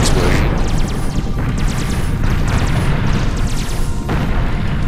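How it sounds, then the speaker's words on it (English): A massive nuke-like explosion in the space strategy game Sword of the Stars 2 booms loud and sustained, with rumbling blasts and crackling bursts repeating over a few seconds. "That was a more nuke-like explosion."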